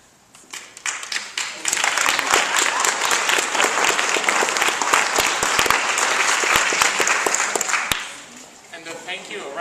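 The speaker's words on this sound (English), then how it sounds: "A round of applause again to all of our presenters." An audience at an education innovation challenge gives presenters a round of applause: clapping builds quickly, holds as a dense, loud wash for several seconds, then tapers off with a voice starting up.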